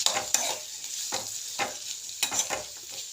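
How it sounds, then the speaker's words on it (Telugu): Green chillies sizzle and fry in a pan for ridge gourd chutney, a steady hiss broken by a few louder scraping stirs, close and without any talk. "ఇప్పుడు ఇవి ఒక 5 మినిట్స్ వేగాలి. ఇందులోకి 4 పచ్చిమిర్చి వేసుకుందాము."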